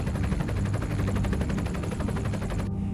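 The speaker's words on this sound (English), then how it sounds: "Some survivors are flown away by helicopter." Helicopter flying near Mount Ontake, a volcano, evacuating people, with rapid, even rotor thumping that pulses steadily and stays loud and close throughout.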